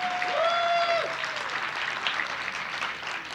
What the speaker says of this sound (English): Let's applaud for Prince.